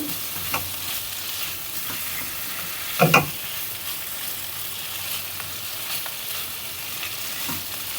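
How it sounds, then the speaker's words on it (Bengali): Cauliflower stirred into a frying pan for a vetki fish curry made without onion or garlic, giving a steady soft sizzle with a brief louder clatter of stirring partway through. "এবার আমি দিয়ে দিচ্ছি ফুলকপি ওটাও ভালো করে মিশিয়ে নেব"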